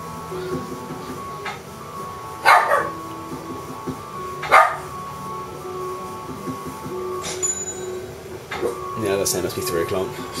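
A dog barking next door in a front driveway, a few separate loud barks at about two-second intervals standing out over a steady background with muffled talk.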